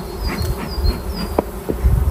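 A dense, steady buzz of many bees close by at a hive, droning continuously with occasional louder passes near the listener.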